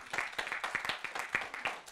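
Scattered, fairly sparse clapping from a small audience at a round-table discussion, individual claps audible in an uneven rhythm, with no talk.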